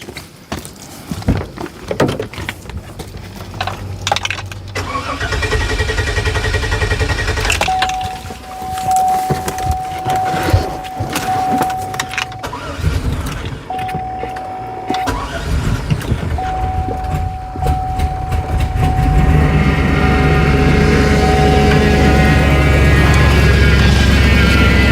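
A Hummer engine is cranked and jump-started with a portable jump starter: clicks and mechanical noises, then a long starter whine with a steady tone, and finally the engine catching into a loud, steady idle, close up.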